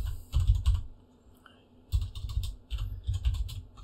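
Keys clatter on a computer keyboard in two quick bursts of typing, close and fairly quiet, separated by a short pause.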